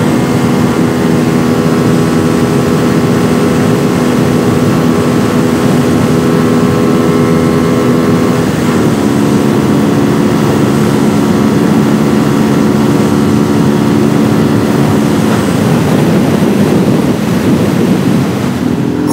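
A CFMoto 250 NK motorcycle held at top speed in sixth gear into a strong headwind, a loud, steady engine drone whose pitch shifts slightly twice, buried under heavy roaring wind noise with no talk.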